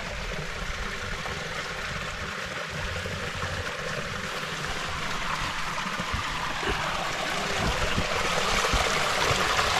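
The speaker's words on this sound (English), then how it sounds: "This looks like a very good creek" Clean, cold mountain creek rushing over rocks on Mt. Kenya, a steady broadband wash of flowing water that grows slightly louder toward the end, with no voices.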